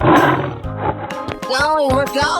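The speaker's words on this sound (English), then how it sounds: "Tiger." A tiger roars in a 3D animal sliding video game, a drawn-out growling cry over game music and effects, loud and close, with brief voice sounds mixed in.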